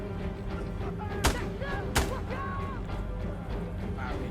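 In the video game Insurgency Sandstorm, two heavy booming gunshots come about a second apart, each with a sharp crack and a rumbling tail. Players talk over them, and a faint thump follows later.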